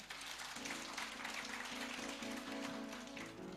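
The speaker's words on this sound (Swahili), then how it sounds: "Pigia Bwana Yesu makofi" A church congregation applauds in praise, a soft, continuous patter of many hands at a distance that holds steady for a few seconds.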